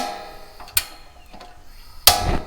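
Camping stove knob turned as pan heat comes on, giving a faint mechanical click followed by a sharper, louder click and brief rush, close and quiet otherwise.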